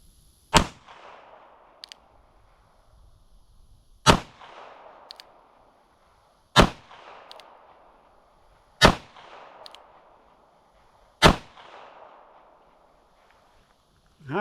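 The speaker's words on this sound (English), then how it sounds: "I'm going to shoot for the bottom one down here" Five sharp, loud gunshots from a Smith & Wesson 648-2 revolver in .22 Magnum crack out at roughly two- to four-second intervals, each with a brief ringing decay, with faint handling noise between.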